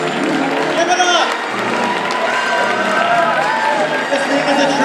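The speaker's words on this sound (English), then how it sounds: "Come on, let's hear some applause." Audience at a school inclusivity and representation event breaks into sustained applause with scattered cheers and whoops, a dense crowd roar that holds steady throughout.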